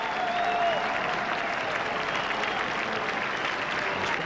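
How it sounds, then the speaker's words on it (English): A large cricket crowd at a 2000 India versus Pakistan tri-series match applauds a boundary with dense, sustained clapping and cheering that stays loud and even throughout. "The crowd loving it."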